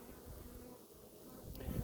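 Honey bees in an open, healthy hive at an animal sanctuary give a steady, soft low buzz that holds through the moment, with a brief rustle near the end.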